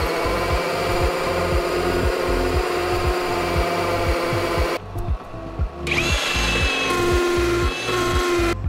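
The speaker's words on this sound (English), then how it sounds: "So good to be able to just easily make a cut using my Milwaukee pipe cutter" A Milwaukee pipe cutter slicing through plumbing pipe during an aquarium sump makeover, a loud steady grinding, whirring cut that drops out briefly midway and then resumes, close to the microphone with no talk.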